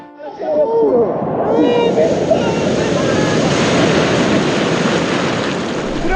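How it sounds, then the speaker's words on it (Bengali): Sea waves at Tajpur beach roar continuously and fairly loud, blended with wind buffeting the microphone. Brief voices are heard at the very start. "কিন্তু সেরকম ঢেউ দিচ্ছে দেখুন"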